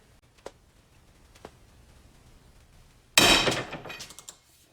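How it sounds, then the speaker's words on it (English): A PowerBuilt ratchet under a torque test lets out a sudden sharp crack as its anvil shears off, followed by a brief rattling clatter after a few faint ticks, close and fairly loud. "Looks like we sheared off the anvil on there."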